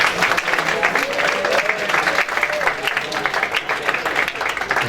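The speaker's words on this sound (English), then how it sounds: "Let us give a very big applause." An audience at the end of a webinar on entrepreneurship and job creation breaks into sustained applause, a dense, even wash of clapping lasting throughout.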